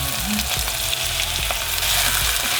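A couple of sausages sizzle loudly in a Tefal wok, with a steady, dense crackle and hiss that carries on without pause and has no talk over it.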